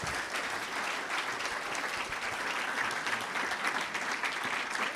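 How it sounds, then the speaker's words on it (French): An audience at a conference about a Vendée Globe sailing race applauds in a steady, dense wash of clapping that holds at an even level throughout, with no voices standing out. "je pense qu'on peut l'applaudir"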